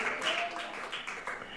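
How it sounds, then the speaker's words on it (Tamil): A church congregation in Jaffna, Sri Lanka claps hands in praise during a service, soft rhythmic clapping heard at some distance with faint voices mixed in. "கைத்தட்டி கர்த்தரை ஸ்தோத்திரம் பண்ணுங்க"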